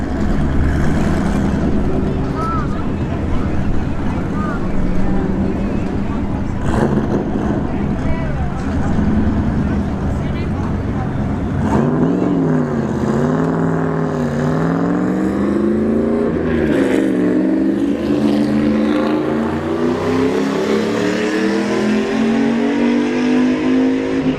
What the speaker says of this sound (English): And the turbo 4th gen Camaro goes 121 miles an hour.